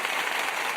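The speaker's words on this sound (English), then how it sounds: "Let's applaud." Brief burst of audience applause at a live event, a dense steady wash of clapping with no talk over it.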